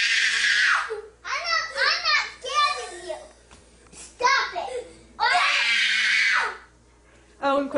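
A young child lets out long, high-pitched screams, loud and close, with excited children's chatter and shrieks between the bursts.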